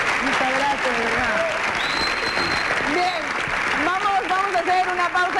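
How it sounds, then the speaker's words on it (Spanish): Audience applause at a Spanish-language street comedy show, a continuous wash of clapping under a voice talking over it. "Un aplauso fuerte para ellos, por favor."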